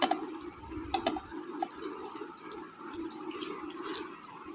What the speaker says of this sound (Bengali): সব সবজি দিয়ে ভালো করে ম্যাশ করে নিচ্ছি হাত দিয়ে